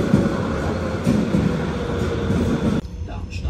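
Steady rumble of a regional train in Germany heard from inside the carriage while riding, a continuous loud broadband drone that drops away abruptly near the end, with faint voices mixed in.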